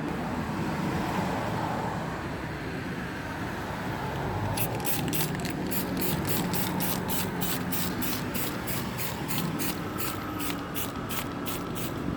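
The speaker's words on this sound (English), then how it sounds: "Then I'll hit it with the pressure washer so it can agitate the surface for me." Pressure washer spraying a car's wheel wells during mobile detailing, a steady loud jet hiss over an engine-like rumble, broken after a few seconds into rapid rhythmic pulses as the spray sweeps back and forth.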